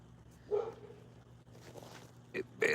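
A dog barks a few times at irregular intervals, the short sharp barks standing out against a quiet background.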